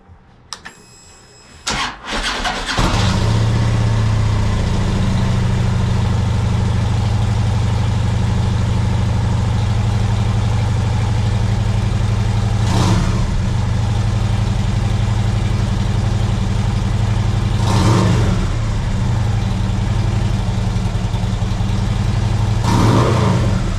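A 2010 Harley Davidson FLHR Road King motorcycle engine cranks and fires up, then settles into a loud, steady, deep idle with a couple of brief throttle blips.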